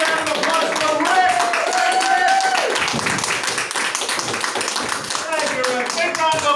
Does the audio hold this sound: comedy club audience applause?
yes